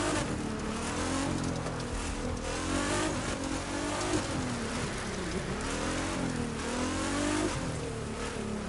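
A car in The Crew 2 driving on dirt, with a continuous engine drone rising and falling as it revs, mixed with a gritty spray of loose dirt and occasional tire scrub.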